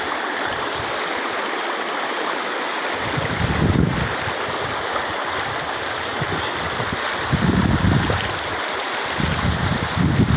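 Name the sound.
river stream flowing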